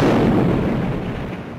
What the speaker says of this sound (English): The morning erupted into a firestorm of shells and rockets.